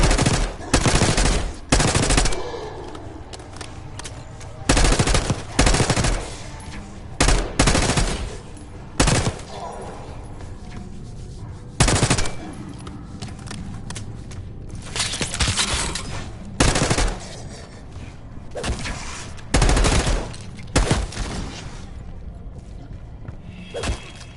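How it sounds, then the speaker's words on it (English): Bursts of rapid machine gun fire in Call of Duty Black Ops 6 crackle repeatedly over a steady background rumble, with sharp volleys recurring every few seconds. "You hearing gunfire?"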